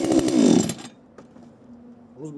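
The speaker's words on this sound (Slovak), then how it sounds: "Takže obidve píly štartujú veľmi krásne, elegantne." A Husqvarna or Procraft GS-52P chainsaw cold-starts, sputtering to life with a short burst of loud buzzing, then quickly drops to a quiet, uneven idle.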